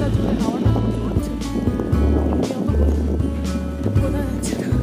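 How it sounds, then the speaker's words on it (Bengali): Strong, cold wind blows hard on a snowy mountain at Chatakpur near Darjeeling, making loud gusty rumbles on the microphone that come in repeated bursts while a person talks. "এইগুলো দেখলে বুঝতে পারবেন যে কতটা জোরে হাওয়াটা চলছে।"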